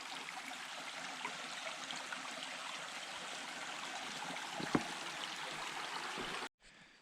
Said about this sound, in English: This is Lance Creek right here.